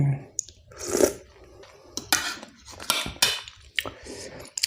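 Thai khanom jeen rice noodle salad with chili dip, water spinach and blanched vegetables is stirred in a bowl: close, irregular clinks of a utensil against the dish mixed with soft wet squishing.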